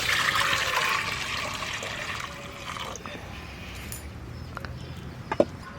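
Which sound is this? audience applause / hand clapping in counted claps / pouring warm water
pouring warm water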